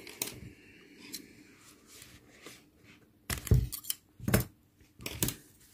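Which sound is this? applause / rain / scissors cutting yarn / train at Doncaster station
scissors cutting yarn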